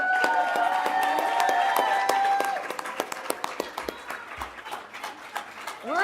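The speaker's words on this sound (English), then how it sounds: "Give her a round of applause." Audience applause at a governing board meeting: scattered hand claps that start with sustained tones and voices, then thin into distinct individual claps that fade out near the end, with some talk underneath.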